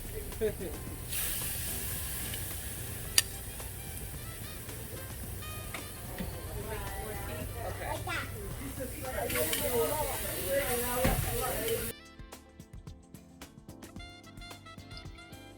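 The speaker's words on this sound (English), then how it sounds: "you put the chicken on and it just starts to sizzle and cook as soon as it hits the grates" Chicken thighs sizzle on a hot grill's grates with a steady, loud hiss that carries on, then cuts off abruptly near the end.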